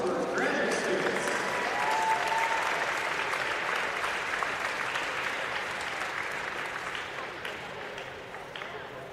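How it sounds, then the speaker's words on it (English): Spectators at a Roanoke College versus Lynchburg swim meet applaud in a natatorium, a full steady roar of clapping that starts strong and gradually tapers off, with some crowd voices beneath. "Let's have one more round of applause for Lynchburg's graduate students."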